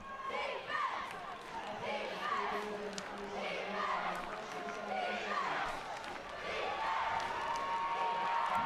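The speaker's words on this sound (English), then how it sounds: "now they've got a reason to stand up and cheer and have some hope" Visiting fans at a high school football game between St. Anthony's and Stepinac keep up a steady roar of cheering and shouting, with a commentator's voice running over the crowd.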